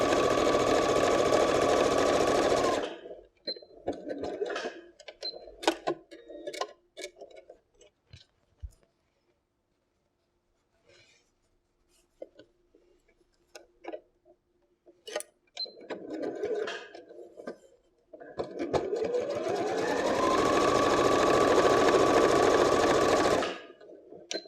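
A home sewing machine stitches a fabric seam on a pocketed phone case, running in two long steady bursts at the start and end with a quiet gap of small clicks and handling noise between.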